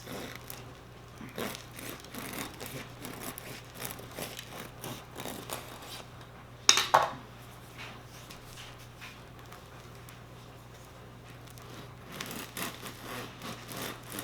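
A serrated knife sawing through a soft boule bread loaf, repeated rhythmic rasping strokes of the blade against the crust, close and quiet, with one sharper crackle midway.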